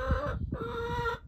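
Chickens clucking in a coop: two short, close, fairly loud hen calls in quick succession, with no talking.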